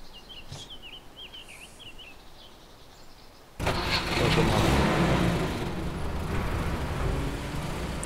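A car in the survival game DayZ Epoch starts up abruptly after a quiet stretch with bird calls, then its engine roars loud and steady.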